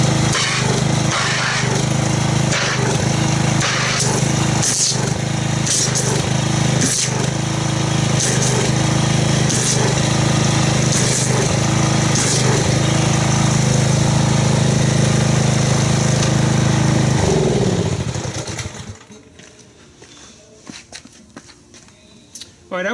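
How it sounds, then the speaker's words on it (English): Pressure washer running to make foam for washing a car, a loud steady motor whine with rhythmic surging pulses that carries on for most of the clip and then cuts off, leaving quiet. "Let's get the pressure washer and see what kind of foam we get."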